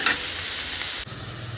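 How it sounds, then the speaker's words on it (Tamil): Carrots and other vegetables for samosa filling sauté in a pan with a close, steady sizzle that shifts briefly near the end, as though stirred. No voices are heard. "நல்லா கொஞ்ச நேரம் வதங்கட்டும்"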